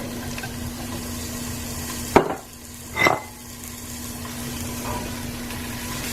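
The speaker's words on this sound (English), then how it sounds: "we're just going to saute these for about 4 minutes" Zucchini and yellow squash sautéing in a pan, a steady close sizzle throughout, broken by two brief louder scrapes or stirs near the middle.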